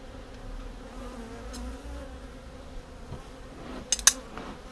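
Steady low buzzing from many agitated honeybees in an opened hive, a continuous drone with a few sharp clicks and taps near the end.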